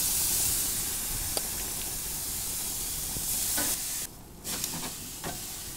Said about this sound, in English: We're just gonna spray this down with some oil and throw them on the grill.